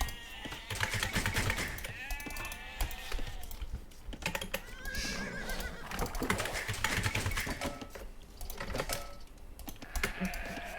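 Sheep in the Age of Empires video game give several short bleats that come and go, mixed with rapid clicking and keyboard tapping during play.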